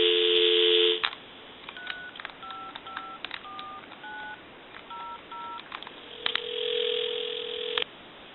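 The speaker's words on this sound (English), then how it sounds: "So we'll go ahead and call that time and temp number now. Give you some dial tone." An AT&T 5.8 EP5632 cordless telephone: a steady dial tone, then about ten clipped DTMF key tones in an uneven rhythm, then a brief line click and a single sustained tone, loud and close.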